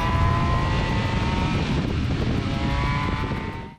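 A 160-horsepower BMW K 1600 Bagger motorcycle cruising on a motorway, its engine drone and wind roar steady and loud throughout, with no voices.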